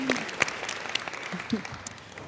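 A workshop audience gives a short, scattered round of clapping after a microfinance presentation, fairly faint and thinning out, with a voice briefly heard.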